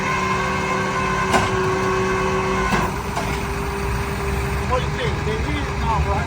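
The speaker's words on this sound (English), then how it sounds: "The tow truck is here. He's getting ready to tow the Sprinter van." A tow truck idles with a steady low engine rumble and droning tones while it waits beside a Sprinter van, and muffled voices carry on underneath.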